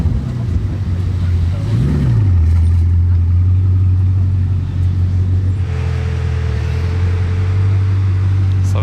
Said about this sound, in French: Petite Z8 et la Chiron Pure Sport va démarrer.